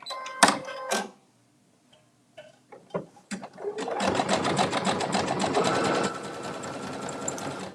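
A sewing machine runs a utility zigzag stitch along a fabric edge, one side of the stitch falling off the cloth to finish it, a steady rapid mechanical whirr after a few brief clicks and handling knocks.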